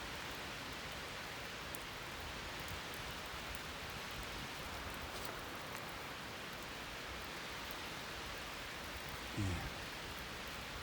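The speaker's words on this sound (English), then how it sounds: "It's windy and rainy." Rain and wind on a mountain trail in the Smokies, a faint, even hiss of rainfall and gusting air running steadily throughout with no voices.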